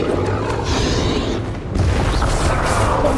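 A Confringo fire spell blast in Hogwarts Legacy booms as one loud, sustained burst of fiery noise across the whole stretch, with a brief dip in the middle before the roar swells back up.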